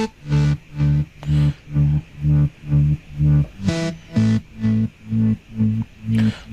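A Moog-style synth bass preset pumps out a loud, steady line of short, fat low notes, about a dozen evenly spaced hits, heard alone with a brief bright filter sweep midway.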